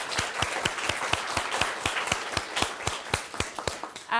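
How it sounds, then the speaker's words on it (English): An audience at a startup talk event gives a short round of applause, with sharp distinct claps from a modest crowd, close by and fading toward the end. "Big clap for this morning."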